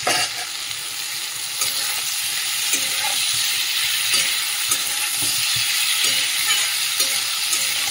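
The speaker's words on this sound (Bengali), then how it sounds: "এর মধ্যে ডাঁটাটা দিয়ে দিই" Boiled, drained vegetable stalks are tipped into a pan of spices frying in oil, raising a loud, steady sizzle that hisses continuously with faint stirring scrapes and no talking.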